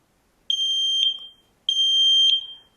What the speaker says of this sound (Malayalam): കണ്ടോ, ഇപ്പം ആ സ്മോക്കിനെ സെൻസ് ആയതിനു ശേഷം ഇതേപോലുള്ള ബീപ്പ് സൗണ്ട് വരും.